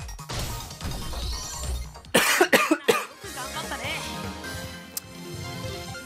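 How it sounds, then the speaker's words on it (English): A man coughs several times in a quick burst of sharp, loud coughs in the middle of a Digimon Story: Cyber Sleuth gameplay session, with game music and his talking around it. "I don't know why I am coughing right now"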